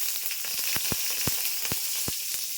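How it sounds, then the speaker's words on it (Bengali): Nigella seeds and two green chillies sizzle and spit in hot oil in a wok, a bright steady hiss with frequent sharp crackling pops, close and alone. "আমার কড়াইটা গরম হয়ে গেছে, আমি সামান্য একটু কালো জিরা দিলাম। এবার দুটো কাঁচা লঙ্কা দিলাম"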